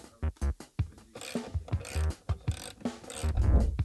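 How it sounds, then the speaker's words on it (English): A 1/2 inch socket wrench ratchets on bolts holding a plate, giving a rapid series of close, sharp metallic clicks and clunks in uneven bursts. "it's simple to remove with just four bolts using a 1/2 inch socket wrench or a crescent wrench"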